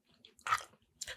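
Crunchy seasoned pepper shrimp is chewed close up, a few quick crisp bites and crunches in a short, quiet burst.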